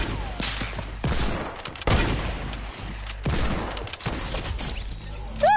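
Rapid video game gunfire from a semi-automatic and a hunting rifle, dense overlapping bursts and single cracks that keep going without a break, loud and busy, with a few electronic game effects near the end.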